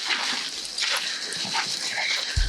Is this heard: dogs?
yes